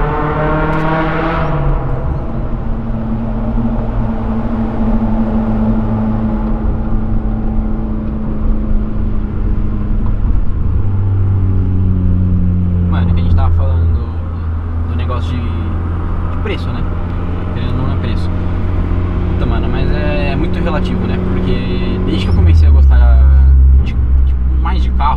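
Honda Civic Si Stage 5 engine pulling hard under acceleration, its steady loud drone stepping up through rising pitch sweeps and shifts over about 25 seconds, with people talking inside the car throughout.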